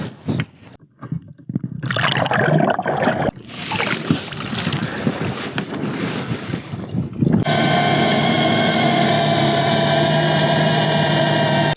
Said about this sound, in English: So that noise you heard just there is the thrusters on the ROV, obviously working hard to get down to the bottom.